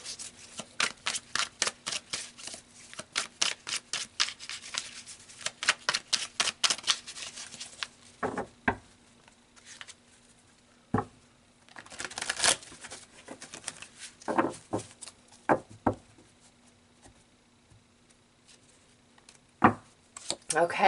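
Tarot cards being shuffled, with rapid riffling bursts close by, followed by scattered pulls and flicks of single cards separated by short pauses.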